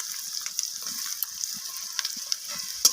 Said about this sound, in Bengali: আলুগুলোকে দিয়ে আমি লালচে করে ভাজা করে নিচ্ছি পেঁয়াজের সাথে